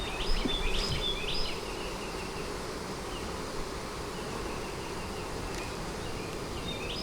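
Honey bees buzz steadily around an open frame pulled from a double deep hive with a honey super, the dense hum close and continuous with a few brighter passes of individual bees.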